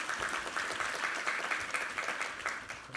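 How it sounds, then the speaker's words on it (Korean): A church congregation applauding during a Sunday worship service: dense, continuous clapping from many hands, close and even throughout the few seconds. "우리 하나님께 감사와 영광의 박수 올려드리겠습니다."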